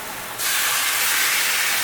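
Mushroom soaking liquid from dehydrated mushrooms dumped into a hot pan, bursting into a loud, steady hiss of sizzling steam that starts abruptly and holds strong, close and alone.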